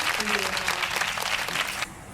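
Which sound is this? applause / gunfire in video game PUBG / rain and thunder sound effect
applause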